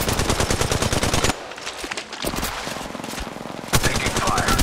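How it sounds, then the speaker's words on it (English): Gunfire in the video game Apex Legends, rapid automatic bursts of sharp, loud shots with a quieter stretch of scattered rounds in the middle before heavy firing resumes. A voice is heard briefly under the shooting. "A second squad is firing at us."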